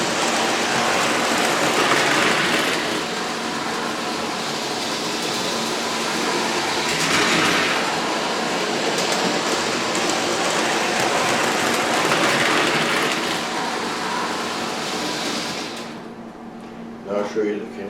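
A continuous whirring rumble of a Lionel FA-2 model electric train runs steadily, rising and fading slightly as it passes, ending with a few clicks.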